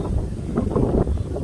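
Outdoor wind buffeting a microphone, a loud low rumbling gusty roar with uneven pulses over a short stretch, no talk.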